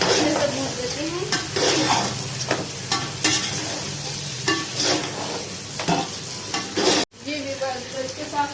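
Whole spices for biryani (black and green cardamom, star anise, cloves, black pepper, cinnamon and cumin) sizzle and are stirred in a pan, with rhythmic scraping and clanks of a utensil against the metal, close and continuous.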